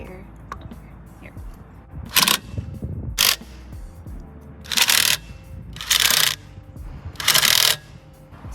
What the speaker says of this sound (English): To tighten up the lug nuts, you need to do a star pattern.